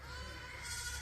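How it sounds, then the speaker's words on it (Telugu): Goats bleat in a wavering, nasal cry lasting about a second, moderately near and fairly faint over low background rumble. "మేకలు చూడండి. ఇక్కడంతా మేకలు"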